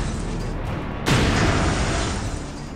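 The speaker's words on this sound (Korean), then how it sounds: "위에서 뭐가 쿵 떨어지는 소리가 났대." A single heavy thud lands about a second in, followed by a low lingering rumble over steady background noise.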